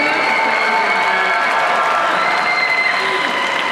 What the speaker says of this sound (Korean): 네, 큰 박수.